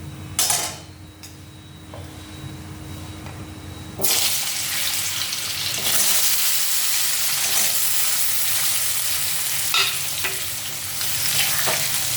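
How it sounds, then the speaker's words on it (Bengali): Boiled, peeled jackfruit seeds and potatoes frying in a pan: a quiet start with a brief clatter, then a loud, steady sizzle from about four seconds on, with occasional stirring knocks, close up. "এটা একটু ভাজতে হবে।"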